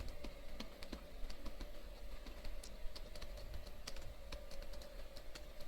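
Typing C code on a computer keyboard, a steady run of close, crisp key clicks with irregular rhythm and occasional louder strokes over a low background hum.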